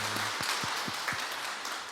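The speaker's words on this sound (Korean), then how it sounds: "우리 하나님께 감사와 영광의 박수를 한번 하겠습니다" A church congregation claps together in praise, a soft, fairly even patter of applause with a few distinct hand slaps near the start, heard at a modest distance.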